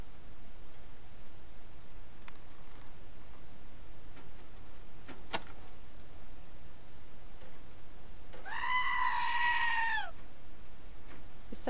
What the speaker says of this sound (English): Is that another goat, or is it the same one?